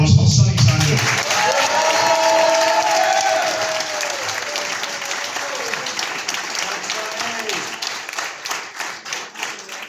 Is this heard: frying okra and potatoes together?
no